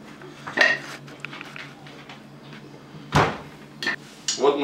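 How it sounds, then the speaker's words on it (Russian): Diced cheese tipped into a blender jar, heard as a few sharp, close clattering knocks and rattles separated by short quiet gaps, with no voices. "Вот мы засыпали наш сыр"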